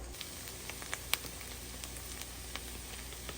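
Onions sizzle in a hot pan with a faint, steady hiss dotted with small popping crackles, heard close and alone.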